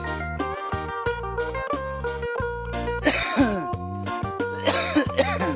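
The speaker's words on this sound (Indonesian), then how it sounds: "Batuk pun mulai keluar." Coughing and throat clearing from a hiker on a steep rocky hillside trail above Lake Toba, a few rough bursts near the middle and end of the clip over steady tonal music.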